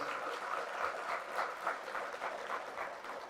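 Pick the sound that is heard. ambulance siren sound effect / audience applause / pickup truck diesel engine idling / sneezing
audience applause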